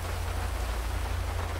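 Steady, dense patter of video game rain in FiveM, set in Los Santos, hissing evenly throughout, with a low constant hum underneath and no voices.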